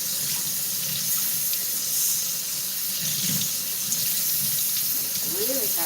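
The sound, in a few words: hot water running from a tap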